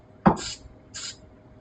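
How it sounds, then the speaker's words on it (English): Two short hissing bursts of Corrosive X sprayed onto a paper napkin, a brief puff then a second softer one, close and quiet, preceded by a light tap or click. "I'm going to show you guys how to spray the Corrosive X onto the napkin"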